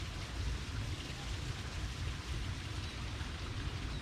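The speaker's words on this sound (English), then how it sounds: "Bit of rain at the moment, a bit grey." Light rain falls outdoors at a secluded garden near a Balinese waterfall, a soft, steady hiss of drops, quiet and even, with no talk over it.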